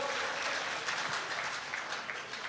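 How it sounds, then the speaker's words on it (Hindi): An audience at a national poets' gathering (kavi sammelan) during the Swadeshi Mela in Surajgarh claps steadily, a dense, even burst of applause filling the room for the whole moment with no speech over it. "ताली बजाओ"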